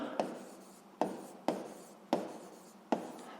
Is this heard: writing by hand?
yes